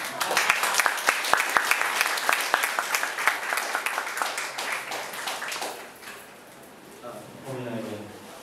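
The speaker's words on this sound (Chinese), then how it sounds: "我们现在给他掌声" An audience at a talk with an independent director applauds him in a dense burst of many hands clapping for about six seconds, then the applause fades and voices carry on.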